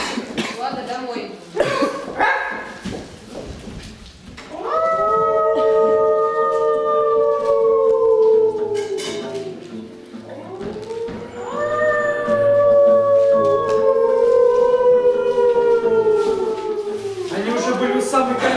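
In a stage play, an eerie, drawn-out howl, nothing like a dog's bark, rises twice in long wavering cries, each several seconds, loud and near after a brief burst of voice at the start.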